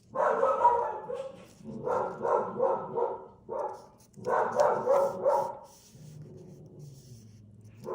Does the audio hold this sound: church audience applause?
no